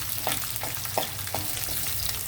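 Garlic and dried red chillies frying in oil alongside chana dal, peanuts, cumin and mustard seeds, a soft continuous sizzle with a few light stirring scrapes and a low hum beneath, close and moderately quiet.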